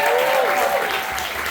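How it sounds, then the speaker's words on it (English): Short burst of dense, sustained audience applause at a creator Q&A event, with a voice faintly audible over the clapping. "Let's give another round of applause to Adele Williams"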